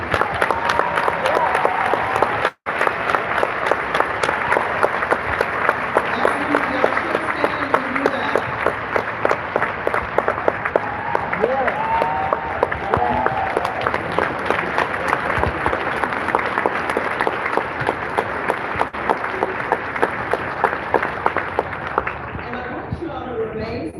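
A large audience at a political event gives a long, sustained round of applause, dense rapid clapping that continues steadily with crowd noise and some voices mixed in, fading slightly at the end.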